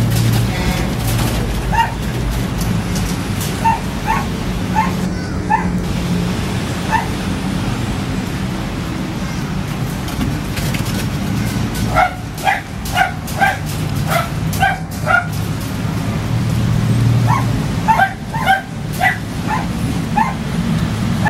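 Small yappy dogs bark and yip in repeated bursts, some quick clusters of sharp yaps separated by pauses, over a steady background hum, fairly close and loud.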